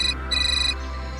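A mobile phone ringtone sounds in an indoor Hindi TV crime-drama scene, a bright electronic melody in two quick bursts then a longer ringing phrase, close and clear with no talking over it.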